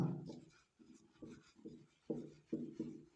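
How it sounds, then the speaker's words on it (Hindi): Pen writing on paper during a Hindi-language class 10 maths lesson, heard as a series of short scratchy strokes in irregular bursts, close and fairly quiet, with no talking. "चलिए लिखेंगे"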